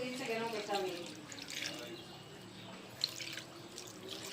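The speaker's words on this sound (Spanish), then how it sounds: "Enjuagamos la espinaca con abundante agua" Water runs and splashes as spinach leaves are rinsed under a flow in a kitchen sink, a steady, fairly faint trickle with drips and a few louder splashes, with voices in the background.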